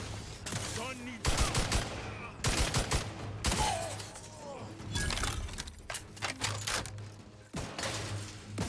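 Turrets firing guns in a video game, sharp bursts of rapid shots and clattering impacts coming in irregular volleys, fairly close and loud throughout.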